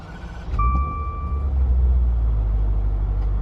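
Maserati Quattroporte GTS started in Sport mode, a brief starter whine giving way to a deep, loud engine rumble that settles into a steady idle with no one speaking.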